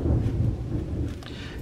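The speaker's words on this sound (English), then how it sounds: "Ooh, that was some thunder." Loud thunder rumbles through a storm, a deep low boom that peaks early and then rolls on steadily, with rain hissing faintly behind it.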